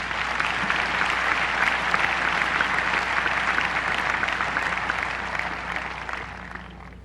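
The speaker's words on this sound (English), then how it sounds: "So one more round of applause for you, Tony." Sustained audience applause at a tennis Hall of Fame induction ceremony honoring a youth coach, dense steady clapping from a large crowd that holds evenly throughout and tapers slightly at the end.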